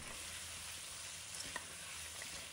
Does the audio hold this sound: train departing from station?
no